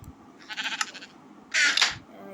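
Sheep bleating in the Minecraft OneBlock video game: two wavering bleats, the second louder and more sustained, over a quiet background.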